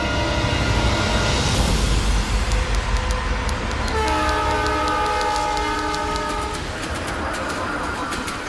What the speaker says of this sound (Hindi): तुलसीगढ़ के लिए ट्रेन निकल गई है।